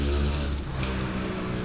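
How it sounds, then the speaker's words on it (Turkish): A motorcycle passes outside an open window, a steady loud engine drone that holds throughout with no talk over it. "Abi motor geçiyor."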